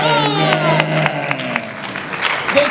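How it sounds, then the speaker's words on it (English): Audience applause from a crowd at a live comic con panel in Winnipeg, a steady burst of clapping that fades over a few seconds, with some tonal music or voices lingering underneath. "with a resounding applause majority, the winner is Iron Man"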